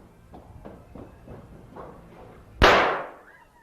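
At a staged western bank robbery, a lit explosive goes off with a single sharp bang that decays into a short rumble, preceded by faint hoof-like clopping and soft scuffs.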